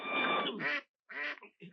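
A duck quacks in a 1968 spaghetti western film, giving several loud, close, nasal quacks in quick bursts with short gaps between them, with no talk over them.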